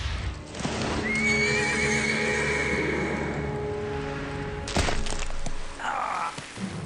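A horse in the video game Metal Gear Solid 3 whinnies loudly for several seconds, joined by clopping hooves, with a brief thud near the end and no talking over it.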